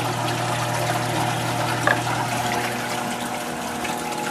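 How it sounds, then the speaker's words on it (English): A clown loach tank's filtration system runs continuously, a steady low pump hum under trickling, splashing water returning to the aquarium, close and even with one small drip midway. "And that's my filtration system."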